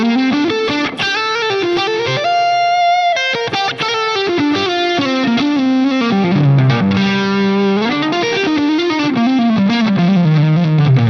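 An electric guitar through a Carvin Legacy drive setting in a Line 6 Helix plays a fast, sustained 80s-style lead line with bright, sizzling distortion, loud and continuous with no talking.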